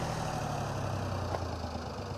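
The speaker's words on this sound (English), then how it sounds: "we have Joaquim here in the field with his tractor, and he is tilling our fields" A tractor engine runs steadily while tilling a farm field in Portugal, a low rumbling drone close by, brief and even with no talk.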